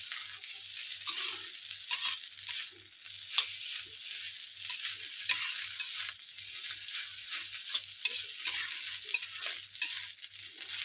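Village-style fried rice stir-fried in a pan: continuous close sizzling with repeated scraping strokes of a spatula in a steady rhythm, no voices.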